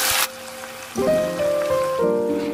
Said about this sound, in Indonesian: Setelahnya tambahkan air kurang lebih